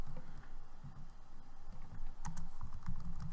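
Typing on a computer keyboard in the Windows command prompt, a rapid, uneven run of close clicking keystrokes with brief pauses, growing denser and louder toward the end, with no one talking.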